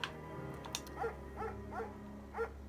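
A German shepherd in the Firewatch video game gives four short barks and yips, evenly spaced and moderately near, over a steady low background hum.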